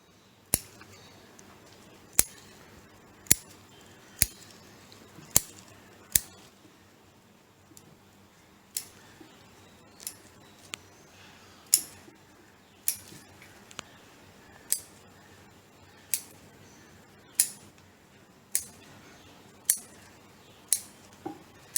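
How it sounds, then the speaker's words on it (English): Pruning shears snap through small branches of a Premna bonsai, a long series of sharp, close clicks spaced about a second apart against a quiet background. "When you cut it like this, you will get a clear picture of the inside branches"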